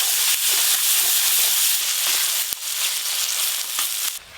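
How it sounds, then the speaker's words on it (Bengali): Chopped onion frying in oil with bay leaf and green chilli for a Bengali egg posto, giving a steady close sizzle and hiss with faint stirring scrapes and one sharp knock near the end. "পেঁয়াজটা হালকা করে ভেজে নিয়েছি"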